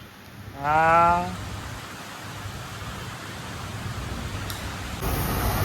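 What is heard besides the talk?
rain falling on pipes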